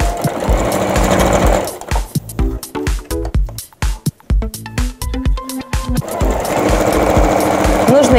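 A sewing machine runs in short bursts of back-and-forth stitching to secure the seam of a summer dress made from a shirt, with stop-start rhythm, brief pauses and light handling noise, close and fairly loud.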